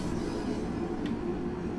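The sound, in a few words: train departing in Train Sim World 2 video game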